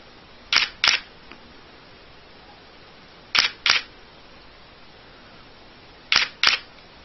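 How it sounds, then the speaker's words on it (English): Nikon D7000 shutter firing in three separate bursts of two quick clicks each, spaced about three seconds apart, crisp and close against quiet room hiss. "first 10 shots you're going to hear are going to be the buffer that's built into the camera"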